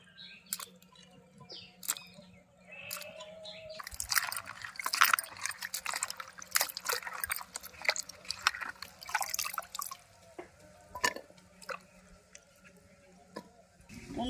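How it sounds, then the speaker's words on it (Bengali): Bitter gourds being rinsed in water, with intermittent drips, splashes and handling clatter, a busier burst of splashing in the middle, and no talk. "এবার উচ্ছেগুলো ধুয়ে নেব"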